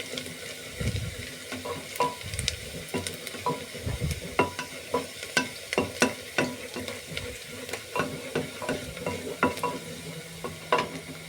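Onions stir-frying in a pan, a steady close sizzle broken by repeated scraping stirs in an uneven rhythm, with no voices.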